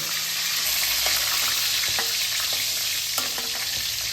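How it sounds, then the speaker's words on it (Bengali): Pointed gourd (potol) pieces fry in white oil with a steady, close sizzle peppered with small pops and crackles, no voices present. "এবার আমি সাদা তেলে পটলগুলোকে ভেজে নিচ্ছি"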